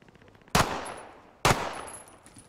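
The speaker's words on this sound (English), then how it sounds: "Dude, can you stop shooting at me?" Gunfire in Call of Duty Modern Warfare during an Infected match, two loud close shots about a second apart, each with a decaying reverberant tail, and no talk.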